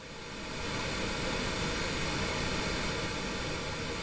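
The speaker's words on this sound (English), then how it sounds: "So I'm sending some pink noise through the filters now" Steady pink noise passes through a bank of fractal filters, giving a constant broadband hiss with a faintly tonal, filtered colour; it swells in over the first second and then holds level and even.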